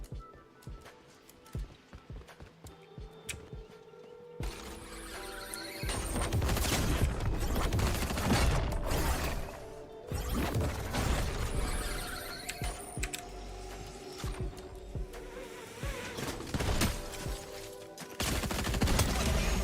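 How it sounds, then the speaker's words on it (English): Gunfire in Fortnite: scattered sharp shots early, then a louder, sustained stretch of rapid firing and game effects, with repeated bursts continuing to the end; no voices. "Where'd that guy shoot from?"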